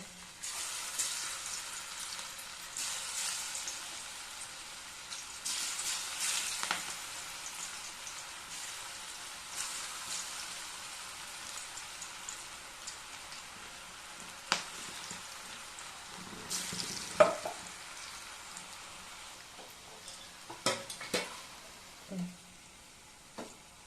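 Cauliflower pieces for gobi 65 deep-frying in hot oil, a soft, rain-like bubbling hiss that rises and falls, with occasional louder clinks and pops, fairly faint throughout.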